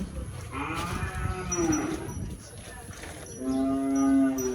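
Large farm cattle moo twice, close and loud, a long low bellow followed by another after a short pause, with faint background noise and little or no speech.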